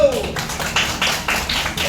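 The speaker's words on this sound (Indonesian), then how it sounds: "beri tepuk tangan untuk kelompok 1" A classroom group claps for the first presenting group, a few distinct, loud claps in rough rhythm close by, following a teacher's voice at the start.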